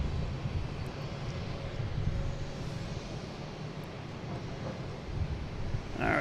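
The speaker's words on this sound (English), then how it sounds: "We have a JetBlue heading to Milan. Flight 331 taking off on 4 right." A JetBlue jet takes off from runway 4 right at Boston Logan, its engines a steady broad roar that stays fairly distant and even throughout, with some wind noise.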